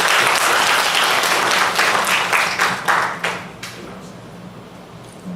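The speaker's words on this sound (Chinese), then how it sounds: "请大家以热烈的掌声来欢迎秦执行长" An audience at a university social enterprise lecture applauds to welcome the speaker, a chief executive. The applause starts dense and loud, then thins into scattered claps and fades out over a few seconds.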